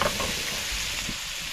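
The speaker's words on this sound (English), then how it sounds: "Put the fat on it, and then we'll cook it in the fat." Steak fries in fat on a camp stove outdoors, a constant close hissing sizzle with faint spatter, steady and alone for a short moment.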